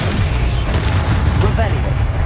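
Confringo spell explosion in Hogwarts Legacy, a dense, loud booming blast that fills the short moment with deep rumble and crackling debris.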